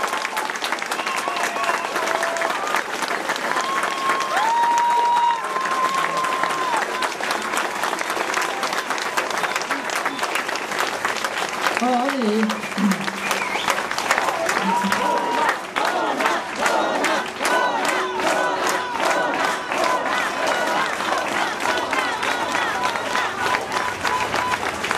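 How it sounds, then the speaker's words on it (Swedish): A political rally crowd applauds steadily and loudly throughout, with cheers and shouts rising over the clapping and a few voices carrying through the noise. "Och nu applåderar ni så vi hörs över hela Sverige."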